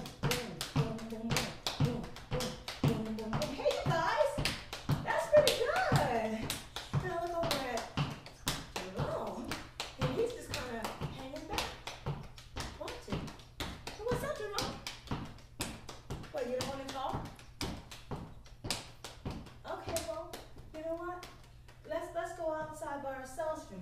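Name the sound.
kids tapping a beat on the floor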